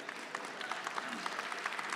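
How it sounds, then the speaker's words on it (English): An audience at a live game developer keynote in London claps together, a dense, steady patter of applause that holds at an even level throughout without speech over it. "Applause for gold and Kasai in the pipeline"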